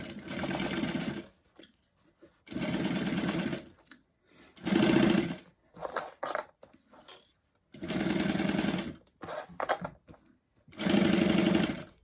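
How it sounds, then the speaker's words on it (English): A sewing machine backstitches to secure a seam on a bag, running in five loud, close bursts of rapid stitching, each about a second or two long. Short pauses between the bursts carry light clicks and handling noises. "I'm going to back stitch a little bit just to secure that in place."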